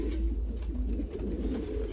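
Pigeons on a farm coo in low, throaty rolls, close by, over a steady low hum in the background.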